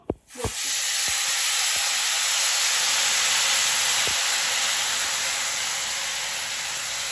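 Water poured into a hot pan while cooking sweet vermicelli erupts into a loud, steady hiss of steam and sizzling that holds for several seconds after a few sharp initial pops.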